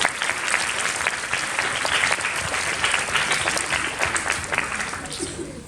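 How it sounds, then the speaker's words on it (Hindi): A school audience at an establishment day celebration claps loudly after a devotional performance, a sustained, even roar of many hands that holds steady throughout. "तो आइए ऐसी सुंदर प्रस्तुति के लिए जोरदार तालियां"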